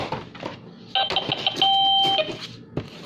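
A bright electronic doorbell chime rings out in a few clear tones, loud and close, with some handling noise before and after.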